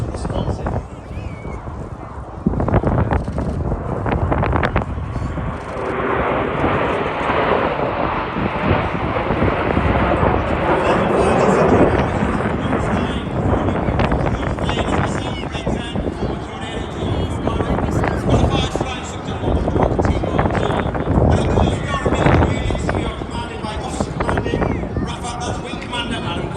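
RAF Red Arrows jets flying a display at the Midlands Air Festival, a loud sustained roar that swells and fades as the aircraft pass, with a commentator talking over it throughout.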